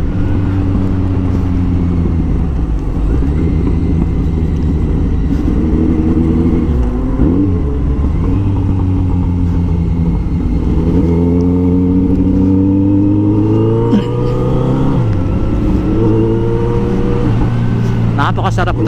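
A Kawasaki Z900 motorcycle on a ride, its engine droning steadily and close, with the pitch rising and falling through several revs and gear changes while the rider talks over it.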